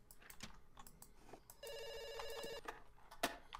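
A telephone rings in a steady electronic trill for about a second, with clicks and a soft background hum around it, no one speaking.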